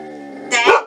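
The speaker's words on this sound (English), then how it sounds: "He's barking at nothing." A dog named Dex gives a single short, sharp bark near the end, close and fairly loud, just after a steady tonal background hum.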